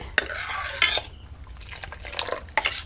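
A spoon stirs milk in a bowl while making curd, with soft scraping swirls and a few sharp clinks against the bowl, close and fairly quiet.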